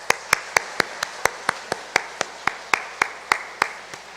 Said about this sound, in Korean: 우리와 영광의 박수 올려드리겠습니다